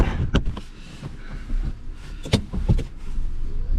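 An off-road vehicle stuck in the woods edges forward with a low engine rumble and a few sharp mechanical knocks and clunks, close by, with no speech.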